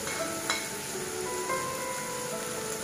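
Chopped ginger and garlic frying in hot oil with carrot for an Italian cheese pasta, a steady close sizzle throughout with a couple of faint clicks, no voices.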